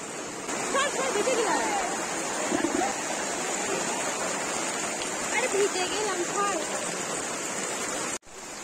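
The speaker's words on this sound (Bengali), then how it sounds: "ঝমঝম করে বৃষ্টি শুরু হয়ে গেছে" Heavy rain pours down steadily over an outdoor clothing market, a dense continuous roar with faint voices mixed underneath, cutting off abruptly near the end.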